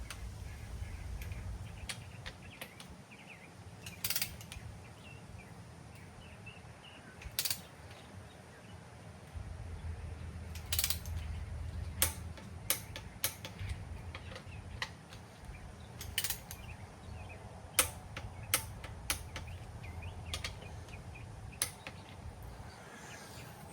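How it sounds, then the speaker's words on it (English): A torque wrench ratchets and clicks in short, faint bursts while stock rod bolts are torqued down on a Chevy 350 engine, with scattered metallic ticks and creaks over a low background hum. "let me just torque these down. These are just stock rod bolts, so I'm torquing them to 45."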